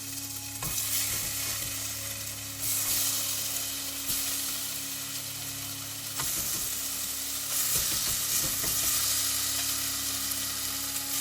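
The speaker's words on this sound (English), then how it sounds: "I just love the sound of the beef sizzling in the pan" Steady crackling sizzle of beef frying in a hot pan, with occasional stirring scrapes and clinks, close and continuous.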